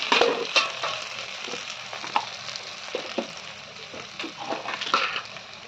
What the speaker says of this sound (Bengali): গ্যাসটা এখন একটু কমিয়ে দেবো আমরা যাতে মশলাটা ভালো করে কষানো হয়